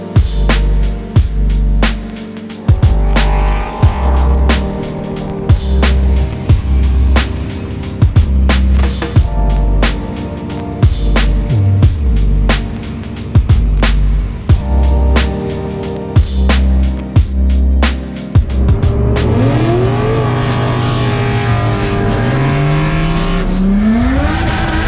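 A Holden VL race car at the Supernats drag event, its engine roaring loud and close with repeated revving bursts, gear changes and some tire squeal throughout, rising in pitch toward the end.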